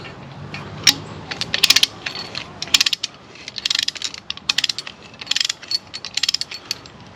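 A ratchet tensioner on a backyard zipline cable over a pond rattles off in quick clicking bursts as the tension is released, with short pauses between the runs of sharp, close metallic clicks.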